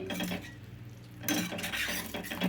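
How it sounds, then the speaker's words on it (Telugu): Yogurt being stirred into onion curry gravy in a pan, with close metal spoon clinks and scraping against the pot in short bursts, no voices. "ఇట్లా గ్రేవీలో పెరుగు కలుపుకోవాలి"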